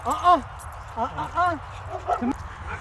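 A dog near a fence barks and whimpers in a string of short yips and whines, loud and close, with a person's voice briefly mixed in.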